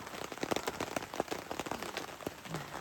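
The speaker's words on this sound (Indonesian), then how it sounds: "Di luar lagi hujan, ini sekalian kita juga tes tenda, bakalan rembes apa enggak" Rain drums steadily on the fabric of a camping tent at night in the jungle, a dense close patter of many small drops with scattered louder taps, heard from inside with no one talking.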